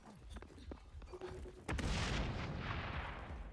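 A grenade in the shooter game XDefiant detonates with a sudden loud boom after a few quieter game sounds, then a broad rumbling blast tail that lingers to the end.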